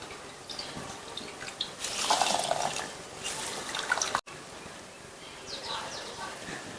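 Juice is squeezed by hand from a grated ingredient for halwa, making wet, trickling, splashing liquid sounds in bursts, close up.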